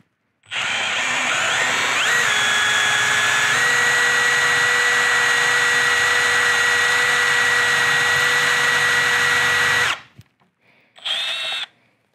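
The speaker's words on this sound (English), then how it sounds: "We can try to drill a larger pocket hole with the number 3 extractor" A Milwaukee number 3 extractor bit drills out a fastener, enlarging a pocket hole: one continuous high power-drill whine, close and loud, that dips in pitch early, runs steadily for about nine seconds, stops, then gives a short final burst.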